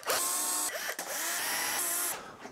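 A power drill drives screws into old cedar boards for a patio table, one steady high whine held for about two seconds, then a brief stop and a final short run, close and loud with no talk.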